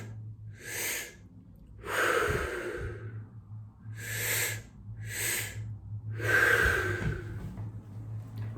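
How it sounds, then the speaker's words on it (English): Breathwork session of deep inhales filling the belly and then the chest, followed by exhales: about five close, airy breath bursts in a slow, even rhythm over a faint steady low hum, with no talking. "we're gonna breathe first into the belly, then into the chest, and exhale"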